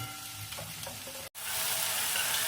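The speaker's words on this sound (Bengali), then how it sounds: "এই মশলাটাও মিনিট 2 মতো কষিয়ে নিতে হবে, যতক্ষণ না এর থেকে তেল বেরিয়ে আসছে।" Spice paste frying in oil in a pan, a dense steady sizzle close by that cuts out for a split second and then returns louder, with no talking.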